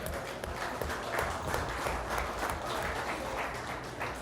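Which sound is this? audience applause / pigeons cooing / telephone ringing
audience applause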